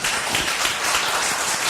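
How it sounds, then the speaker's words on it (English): An audience at a city commission meeting applauds, a dense, steady wash of many hands clapping close and loud with no talk over it. "Yes, you can clap."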